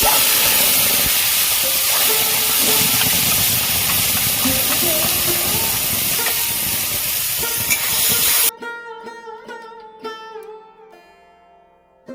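Ground bean paste goes into hot oil, setting off a loud, steady hissing sizzle up close. It stops abruptly partway through, after which only quiet, fading tones remain.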